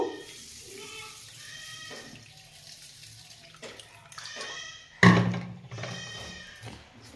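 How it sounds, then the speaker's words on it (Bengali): Water poured into a bowl of basmati rice, with soft splashing and trickling that swells into a sharper gush near the end, heard close with no voices. "তারপরে এতে আমি জল দিয়ে দিব, এতে পরিমাণ মতো জল দিয়ে দিব"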